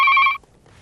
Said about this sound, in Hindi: दूसरा फोन आया है।